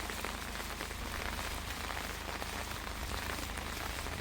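Steady rain pattering on a surface, dense and continuous throughout with no voices.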